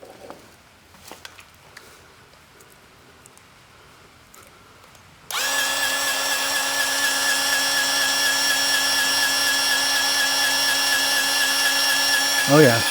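A cordless Seesii grease gun pumps grease into a fitting on a TYM 2515H tractor, a steady high motor whine starting abruptly midway and running loud and continuous, preceded by faint handling clatter and brief talk.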